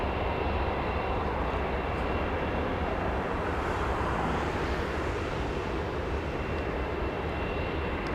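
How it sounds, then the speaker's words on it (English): A Southwest Boeing 737 airliner at Los Angeles International Airport gives a steady, broadband engine roar that holds at an even loudness throughout, with no talk over it. "737 Southwest trying its best to steal the spotlight"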